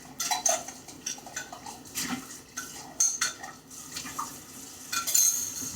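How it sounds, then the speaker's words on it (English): Cup and spoon rinsed under water: scattered clinks of the spoon against the cup and dishes, with light splashing between, close and fairly quiet. "Using a cup, rinse it out."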